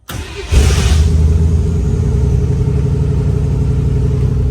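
A truck engine with an Edelbrock carburetor, running off a jump box, cranks briefly and then catches, settling into a loud, steady rumbling idle with a slight rev, close by.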